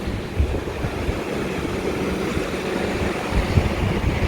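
Stormy sea at the Storms River mouth sends a continuous broadband roar of surf with wind buffeting the microphone, swelling slightly in places, with no voices.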